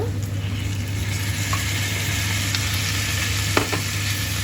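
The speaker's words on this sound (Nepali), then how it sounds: "6-7 मिनेट जति यसलाई भुटेपछि मैले यसमा हरियो भटमास मिसाउँदैछु।" Chicken gizzards and green soybeans fry in a pan with a steady, close sizzle and occasional scrapes of stirring, without any talking.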